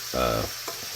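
Bacon strips frying in their own rendered fat, a steady sizzle with a brief low hum or tone near the start and a soft knock afterward, close and moderately loud.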